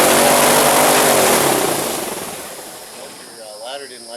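An airboat with a 350 engine and a Holley carburetor blasts a loud engine roar and rushing wind that fades over a couple of seconds, leaving a quieter idle with voices underneath.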